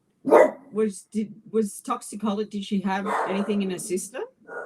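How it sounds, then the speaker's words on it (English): A pet dog barks in a home, a quick run of sharp yips and barks layered over a person talking nearby. "Oh, sorry about that. That's my dog."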